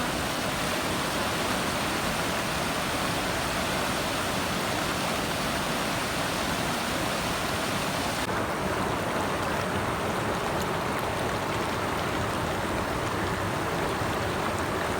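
Mountain stream water at Malakyaar rushes steadily and loudly, a dense, continuous broadband flow heard close up and alone for the whole stretch, with no talk over it.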